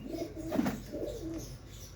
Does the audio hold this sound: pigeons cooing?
yes